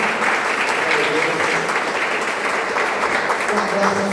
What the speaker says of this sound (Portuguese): Vamos dar uma salva de palmas ao Senhor.